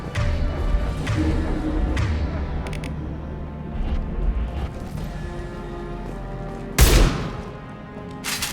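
Gunfire in the video game Mass Effect 2, a dense battle mix of shots and thuds running throughout, with a loud, sharp burst near the end, under a faint voice.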